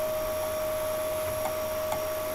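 A vacuum cleaner runs nearby in a home, giving a steady whining drone with a strong constant tone and a broad hiss that never changes; no one talks over it.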